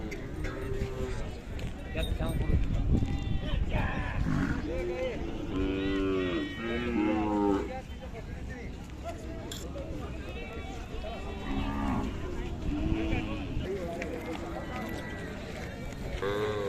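A Khillar cow moos several times in drawn-out calls over a busy outdoor livestock market crowd of people talking, with shuffling and movement around.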